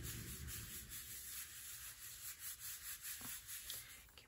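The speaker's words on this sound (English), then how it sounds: "Give a little rub" Fingers rub over a folded piece of cardstock on a handmade Z-fold card, pressing it flat, a quiet, close, continuous dry scuffing with a gentle back-and-forth rhythm, faint against a steady background hiss.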